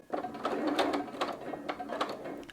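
A sewing machine stitches a fabric seam in short mechanical bursts, its needle clattering rhythmically up close with brief pauses between runs.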